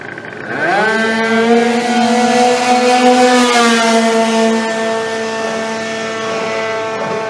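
A home-built Yamaha Sprinter scooter at a drag racing event roars off the line with a sharp rising engine note. It then holds a loud, steady high-revving drone that fades slightly toward the end.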